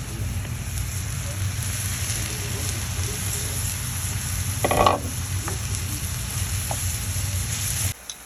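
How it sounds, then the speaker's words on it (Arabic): Minced meat goes into a pan of frying onion and garlic, a continuous loud sizzle and crackle with one brief scraping burst of stirring midway, close and without talk, cutting off near the end. "بصوا يا حبايبي احنا دلوقتي هنحط اللحمه اهو"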